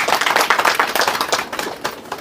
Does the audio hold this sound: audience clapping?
yes